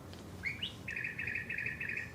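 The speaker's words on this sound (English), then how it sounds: "Bird clock." A bird clock gives a chirping call, a short rising tweet followed by a steady trilled chirp, clear over a low background hum.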